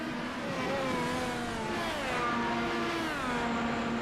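An IndyCar-style race car in a racing video game at Long Beach revs and shifts on pit entry, its engine pitch sweeping up and down in continuous whining tones, fairly loud and alone.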